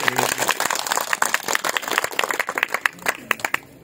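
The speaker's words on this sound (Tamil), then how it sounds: "அவங்களுக்கு ஒரு கரகோஷம் எழுப்பி பாராட்டுகள்" Applause from a crowd at a village gathering in Thazhampoondi, dense scattered clapping throughout, moderately loud, with some voices mixed in.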